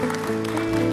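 A church congregation claps together during a worship service, a dense and continuous burst of applause with musical accompaniment sustained beneath it.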